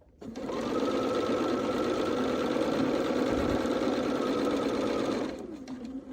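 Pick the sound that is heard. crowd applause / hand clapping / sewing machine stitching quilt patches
sewing machine stitching quilt patches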